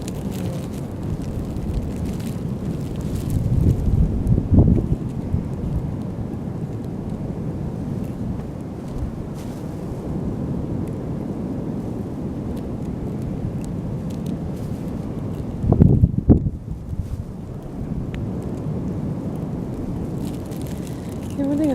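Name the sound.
wind blowing at the beach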